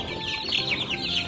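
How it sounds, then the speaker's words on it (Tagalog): Hubbard and Rhode Island Red chickens cluck in a short burst of rapid, close, overlapping calls. "Ito na sila, yung ating mga alaga mga ka-chicken."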